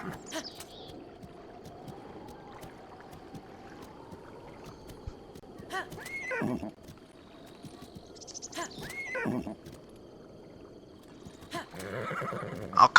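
A horse in a Zelda video game whinnies twice with distinct rising calls, over soft hoof clip-clop and quiet game ambience.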